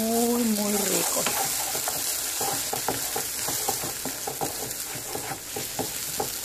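Machacado dried beef cooking with egg crackles and sizzles loudly in a pan, broken by frequent scraping stirs of a utensil. Nobody speaks.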